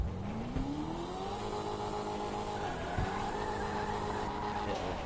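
Engine of a Blackfin, a macho American muscle car in GTA, revs hard at full throttle, its steady roar climbing in pitch over several seconds, loud and close with no other sounds.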